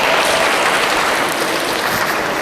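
A continuous, loud wash of audience applause during a student character-building webinar session at a university, with steady, dense clapping filling the whole stretch and no voices over it.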